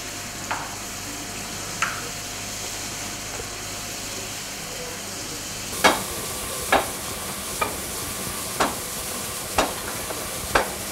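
Vegetables and potatoes frying in a pan under a constant sizzle, with the utensil striking the pan in sharp, fairly regular knocks that become louder and closer halfway through.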